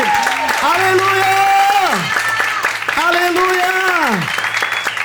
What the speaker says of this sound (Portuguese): Aplauda bem forte ao Senhor, aplauda bem forte.